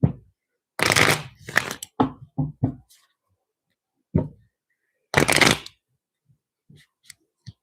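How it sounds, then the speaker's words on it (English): Tarot cards are shuffled in several quick, crisp riffling bursts separated by pauses, close and clear with faint small handling noises between. "2 more shuffles"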